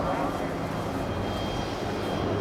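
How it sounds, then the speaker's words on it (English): Spitfire and Messerschmitt aircraft engines roar in a steady, loud, broad drone during a mock dogfight at an air display, with no break across the moment. "There are 3 Spitfires chasing 3 Messerschmitts now"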